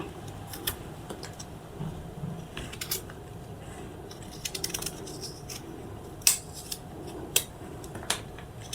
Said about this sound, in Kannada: ಈ ರೀತಿ ನೀಟಾಗಿ ಎರೆದು ಸಿಪ್ಪೆ ತೆಕ್ಕೋಬೇಕು.